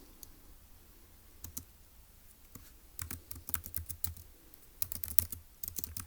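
Typing on a computer keyboard sounds as quick irregular clicks, sparse at first and then in denser bursts, close and fairly quiet, with no talking.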